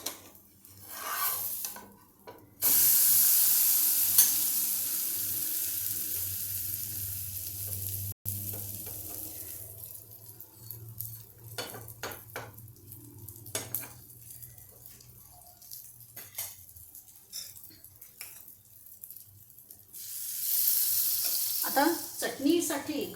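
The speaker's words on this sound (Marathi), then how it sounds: "हे झालं की आपण हे छोटं कटलेट पण भाजून घेऊ" Beetroot cutlets sizzle and fry in a hot pan, a steady crackling hiss with occasional stirring and utensil scrapes, fading to quieter bursts before rising again near the end.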